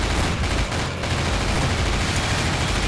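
Gunfire in the horror shooter Nightmare House 2: a loud, unbroken stream of rapid shots in an unrelenting barrage, with no pauses and no talking.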